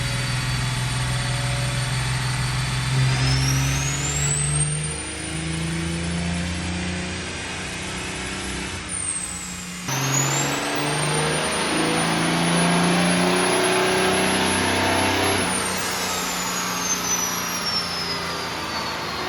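A 1,500-horsepower daily-driven Cummins diesel truck engine on a dyno pull, loud and sustained with deep rumbling revs and a turbo whistle rising and falling across two long runs, no talking.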